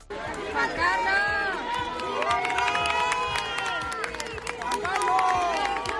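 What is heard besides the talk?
crowd applauding and cheering for King Juan Carlos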